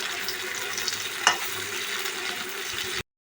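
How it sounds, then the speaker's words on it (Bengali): Crushed garlic sizzles and crackles steadily in hot oil in a pan, close up, with a single brief clink partway through before the sound cuts off. "রসুনটা থেতো করে দিয়েছি, তো ভাজতে একটু টাইম লাগবে"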